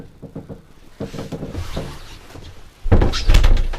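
A wardrobe door in a 2010 Burstner Solano T700 motorhome is handled with light rattles and bumps, then a louder, heavier knock and clatter near the end as it shuts.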